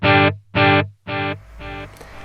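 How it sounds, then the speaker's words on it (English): A shouted voice run through a Grand Canyon delay effect: a loud call followed by three or four repeating echoes, each fainter and more smeared, spaced about half a second apart. "And one more time, Grand Canyon delay"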